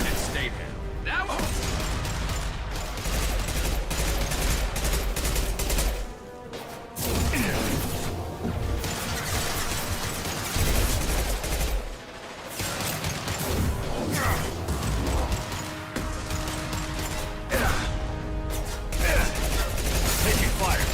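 Gunfire in the video game Mass Effect 2, dense rapid shots and mechanical clatter blended with crashes and whooshes in a loud, continuous combat din, with voices speaking over it.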